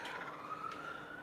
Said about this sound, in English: Siren alert.